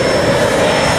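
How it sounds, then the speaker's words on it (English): A UPS cargo jet passes over Lindbergh Field in San Diego, its engines a steady, loud broadband roar that holds through the whole short moment, with voices faintly in the background. "UPS plane."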